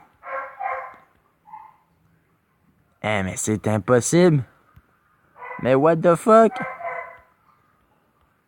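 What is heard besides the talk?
dog barking behind the speaker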